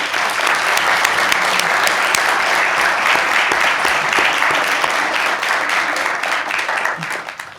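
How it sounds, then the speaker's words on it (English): Dense, loud, sustained applause for school board members at a Grand Rapids Public Schools board meeting, holding steady for about seven seconds before tapering slightly at the end. "let's give our school board members a round of applause"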